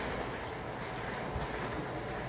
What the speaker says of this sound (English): coming in now will be a cross-country service to Plymouth from Glasgow Central